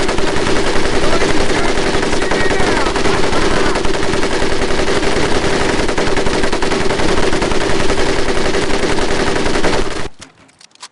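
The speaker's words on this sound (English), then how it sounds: "my personal favorite, the M1919A4 30 caliber machine gun." Sustained automatic fire from an M1919A4 .30 caliber machine gun in the World War II shooter Medal of Honor Pacific Assault, loud and continuous for about ten seconds before cutting off abruptly, leaving a brief rattle of trailing noise.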